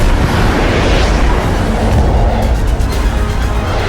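A loud, sustained explosion rumble from an audio drama: dense, roaring low-frequency noise fills the whole stretch without pause, with a few faint crackling pops late on, and no talk.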